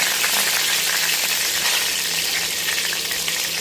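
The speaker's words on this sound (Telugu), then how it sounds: "బాండల్లో నూనె కాగాక ఒక చిన్న స్పూను తాలింపు గింజ, కొంచెం జీలకర్ర, ముందుగా తీసుకొచ్చిన కరివేపాకు" Mustard seeds, cumin and curry leaves sizzle steadily in hot oil in a pan for an Andhra-style stuffed brinjal curry, a loud continuous crackling fry heard up close with no voices.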